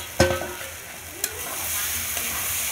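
Banana flower curry frying in a pan while being stirred, a steady sizzle with a sharp clank of the spoon near the start and another scrape a second later, no talk.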